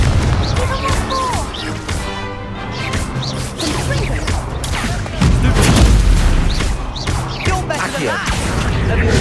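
Confringo fire spells exploding in Hogwarts Legacy, loud repeated booms and crackling blasts with whooshing bursts, dense and continuous combat effects.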